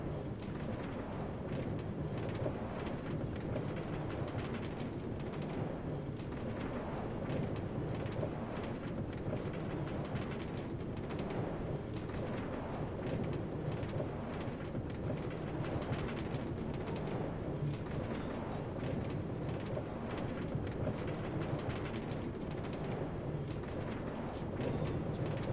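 A Minecraft train rolls steadily along rails, a continuous dense rumble with rhythmic clatter that holds at an even, fairly loud level throughout with no pauses.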